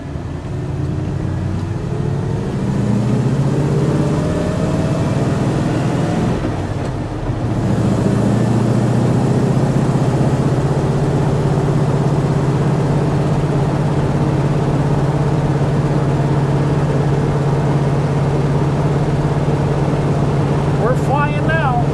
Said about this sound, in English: I love the mechanical sounds of the transmission